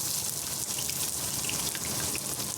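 Mustard and cumin seeds sputtering in hot oil for an aloo fry, a steady dense sizzle with small crackling pops scattered throughout, close and continuous, no voices.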